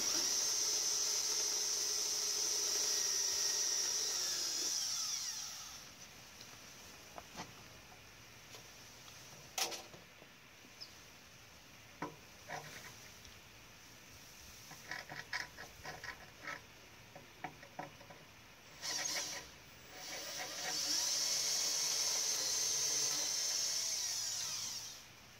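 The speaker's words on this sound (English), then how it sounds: "So here I'm drilling up through the holes in the cleats." A power drill bores up through holes in steel angle iron cleats on a homemade pivoting car tow dolly trailer, with a high motor whine at the start and end and scattered short bursts and knocks between.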